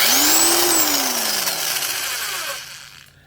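A Harbor Freight Bauer corded impact wrench rated at 1050 ft-lb, with an 8.5 amp motor, is switched on at its rocker switch. Loud, aggressive motor whine rises, then winds down and fades over about three seconds, with no talk.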